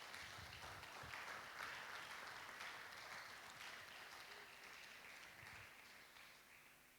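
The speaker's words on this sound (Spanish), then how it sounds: "Dale un aplauso al Señor si lo crees conmigo" A church congregation applauds steadily for several seconds, a dense, sustained clapping that slowly fades slightly toward the end.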